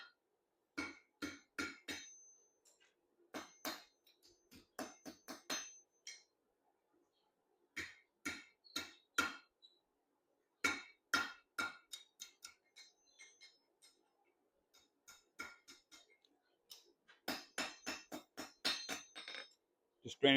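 Hot steel hammered on an anvil horn by a blacksmith, sharp ringing clinks in quick bursts of several blows separated by short pauses, fairly faint and steady throughout.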